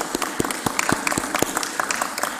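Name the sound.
council meeting audience applauding a report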